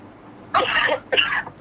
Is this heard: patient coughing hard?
yes